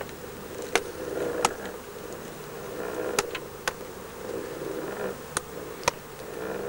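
Honey bees buzzing around an open, partly capped hive frame, a continuous close insect drone with several sharp clicks and taps scattered through it.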